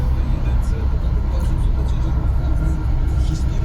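Renault Trafic 1.6 dCi 2017 van cruising at about 105 km/h near 1900 rpm, a steady low rumble of engine and road noise filling the cabin without letup.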